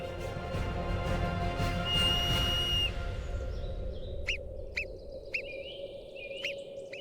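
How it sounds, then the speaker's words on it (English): Burrowing sentinel animals on high mountain peaks give high-pitched alarm whistles to warn of predators. Several short, sharp, evenly spaced whistle calls ring out after a steadier tonal wash, moderately close against quiet surroundings. "they share their underground network and place sentinels that emit high-pitched whistles to warn of the presence of predators"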